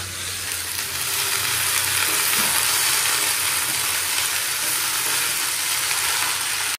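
Saag greens frying in white cooking oil in a pan: a loud, continuous sizzling hiss that swells slightly in the middle and holds steady, with no voices.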